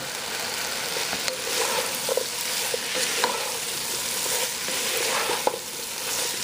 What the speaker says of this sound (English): I'm going to go ahead and add all my Brussels sprouts in here